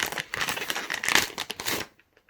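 A paper envelope from an album package being opened, close crinkling and rustling paper for about two seconds, then near silence with a couple of faint ticks.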